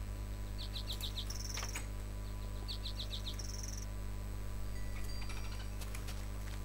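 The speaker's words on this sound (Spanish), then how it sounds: "Hay un pajarito." Birds in the Minecraft video game chirp in short, quick bursts of high tweets, two clusters a couple of seconds apart. They sound faint over a steady low hum.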